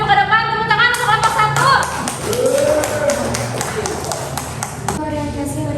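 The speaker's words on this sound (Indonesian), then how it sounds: "Tepuk tangan untuk kelompok" A classroom claps for group 1 at a school lesson, a short burst of hand claps mixed with taps and shuffling, while a teacher and students talk over and around it.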